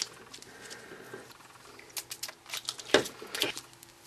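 Wet paper flowers being crumpled by hand for a scrapbook page, giving soft, irregular crinkling and rustling bursts that grow busier and louder toward the end, close up with no talking.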